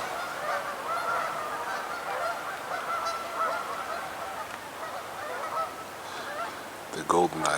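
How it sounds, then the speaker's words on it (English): Geese honking along a river during a winter walk in a wilderness park, a chorus of overlapping calls at a moderate distance, continuous and fairly faint, with a brief closer sound near the end. "Seems to be quite a few geese down here along the river,"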